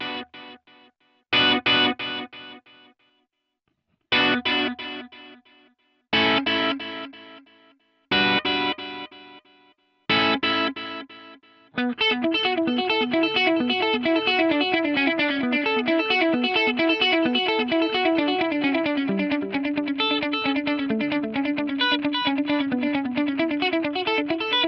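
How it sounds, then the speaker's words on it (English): Electric guitar plays a few separate chords with gaps, then a continuous strummed passage, each note smeared by a short, wide-sounding 3-millisecond offset delay. "adding 3 milliseconds of offset delay on there"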